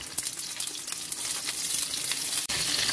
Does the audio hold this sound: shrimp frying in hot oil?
yes